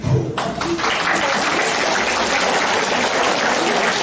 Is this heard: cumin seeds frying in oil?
no